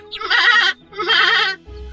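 Two loud, close goat bleats in a cartoon, each a long wavering cry with a brief pause between them, followed by a low rumble at the end.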